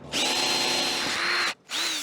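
Power drill boring a 13/32 inch hole with a Harbor Freight bit during crack repair on a 1967 Mooney airplane: loud, close whine running steadily, a short pause, then a second burst.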